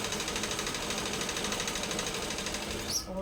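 A sewing machine runs continuously while stitching a salwar seam, a steady close whirring and rhythmic chatter that slows near the end.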